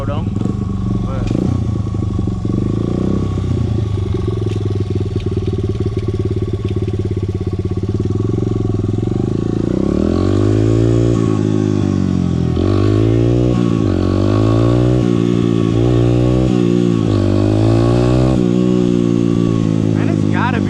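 XR100 supermoto stunt bike engine, a loud single-cylinder motorcycle idling then revved in repeated sharp bursts that rise and fall, close up, with a possible fault.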